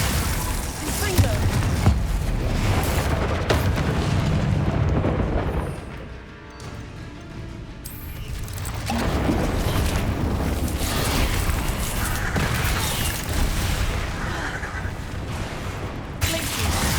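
Confringo blasting spells explode again and again in Hogwarts Legacy during a fight in the Undercroft, loud continuous booms and crackling bursts with a brief lull in the middle.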